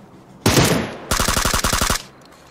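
Suppressed automatic gunfire in a two-player squad shooter game: one long continuous burst, then a rapid string of about a dozen distinct muffled shots, loud and close with no talk.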